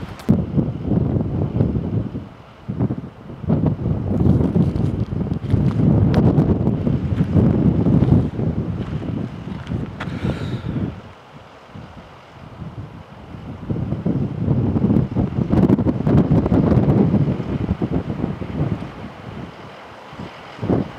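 Strong gusts buffet the microphone on top of Lookout Mountain in the cold, roaring loudly in long surges that drop away briefly around the middle before rising again.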